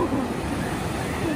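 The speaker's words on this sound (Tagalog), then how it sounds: "Sobrang lakas ng alon, guys." Strong ocean waves on Pantai Cenang beach in Langkawi, Malaysia, a continuous loud wash of surf with wind rumbling against the microphone, and a voice talking over it.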